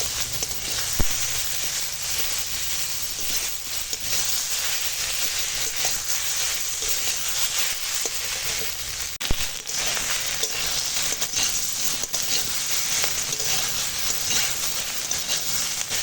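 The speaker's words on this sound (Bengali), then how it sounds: "মশলার সঙ্গে আনাজ ভাজা হয়ে গেছে" A continuous close sizzle of eggplant frying with ginger-cumin paste, steady and hissy throughout, with occasional sharp clicks of stirring.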